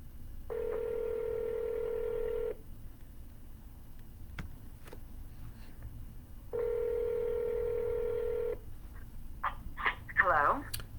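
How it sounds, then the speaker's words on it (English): A telephone on an outgoing real estate cold call rings back twice, each steady tone lasting about two seconds with a gap of quiet line noise between, followed by a faint click and a brief rustle. "we'll see if we can get somebody on the phone here"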